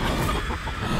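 Dense clucking from a flock of game chickens in the Wand Wars arcade battle, a loud, continuous jumble of fowl noises filling the short moment without talk.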